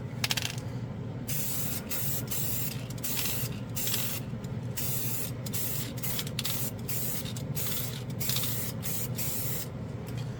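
Acrylic spray paint can spraying onto a piece of steel in short, repeated hissing bursts with brief pauses between them, close and fairly loud, no talking.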